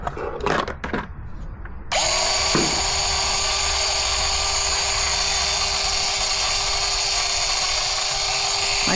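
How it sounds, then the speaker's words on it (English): An angle grinder is held near a miniature stud horse, its motor spinning up after a couple of seconds of handling clatter into a loud, steady high-pitched whine that holds constant and close through the rest. "I'm gonna show him the angle grinder just for him to get used to the noise."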